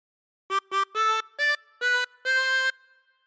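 A harmonica plays a short six-note phrase of We Wish You a Merry Christmas, two quick notes then longer held tones, ending on a sustained note that fades into quiet.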